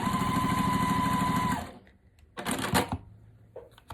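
A sewing machine stitches quilt fabric squares with a fast, even whir for about a second and a half, then stops, leaving a few short handling clatters and rustles.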